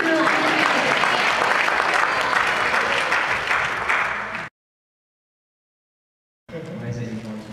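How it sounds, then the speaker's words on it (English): An audience at VidCon applauds loudly and densely for about four and a half seconds before the sound cuts to silence, then crowd noise and clapping resume briefly. "You guys can clap. It's okay."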